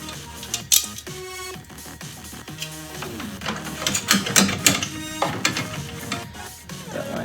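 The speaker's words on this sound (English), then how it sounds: "take these screws back out" Screws being backed out of the roof piece of a small model house, heard as short, close whirring bursts from a powered driver, broken by a few clicks and handling knocks.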